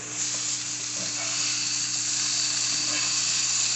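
Spicy chicken breast sizzles and fries steadily in a pan, a continuous bright crackle holding level and close throughout with no one talking.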